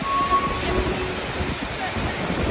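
Icelandic waterfall pounding close to its base, a dense roaring wash of broadband noise with spray, steady and loud throughout.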